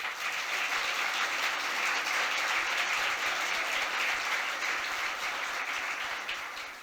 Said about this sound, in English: Please give our team a round of applause for tonight.